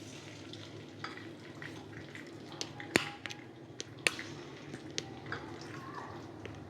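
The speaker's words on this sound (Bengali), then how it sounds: "তেলে দিয়ে ভেজে নেব।" Garlic fish fries in oil with a soft, low sizzle, punctuated by several sharp clicks and pops from utensils and spattering, fairly faint and close.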